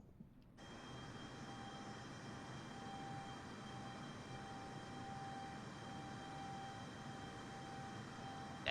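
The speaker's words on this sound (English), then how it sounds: "This is the Air Force One Boeing 747 of the US President." Air Force One, a Boeing 747 of the US President, taking off from a short island runway: a steady, broad jet roar that sets in abruptly and holds without letup, with a faint steady whine running above it.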